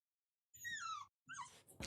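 Puppies whimper in a sound effect: two short bursts of high, thin, falling whines, close and alone against silence, followed by a brief noisy thump at the very end.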